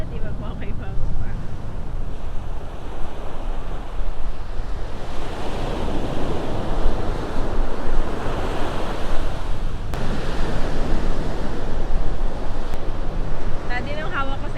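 Ocean waves wash steadily onto a beach with a constant rushing roar, close and loud, mixed with gusty wind buffeting the microphone.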